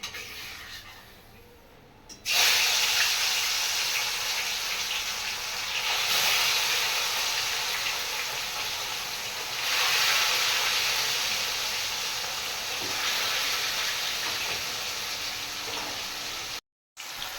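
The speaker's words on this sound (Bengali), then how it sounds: "তেল গরম হয়ে গেছে এবার আমি মাছগুলো ছেড়ে দেবো" Hilsa fish slides into hot oil and sets off a loud, steady sizzling hiss that surges in waves and keeps going, with a short cut near the end and no talking.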